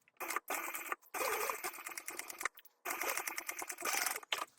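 Sewing machine stitching the lining panel of a bag at a quarter-inch seam, quiet bursts of rapid mechanical clatter broken by short pauses.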